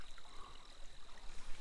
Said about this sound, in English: Love this creek.